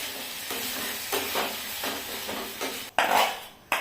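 A soy sauce and vinegar mixture is stirred in a pan while cooking chicken momo, giving soft scraping strokes over a steady hiss, with a sharper clatter near the end.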